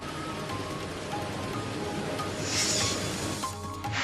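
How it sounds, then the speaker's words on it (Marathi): Unseasonal rain pours down steadily during a storm in Maharashtra, a dense continuous hiss of drops with a brief louder surge partway through. No one speaks. "वादळी वारा आणि विजांसह पाऊस बरसला"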